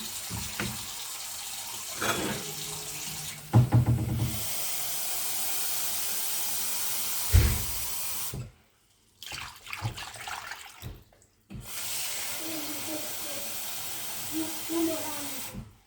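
Tap water runs into a pot for boiling peeled potatoes, a steady close hiss that stops briefly a couple of times. Soft kitchen clatter and a speaking voice come in between.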